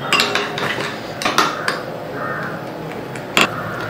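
A spoon clatters against a bowl as two tablespoons of fried oats are mixed into an omelette batter, with close, loud, irregular scraping and clinking strikes.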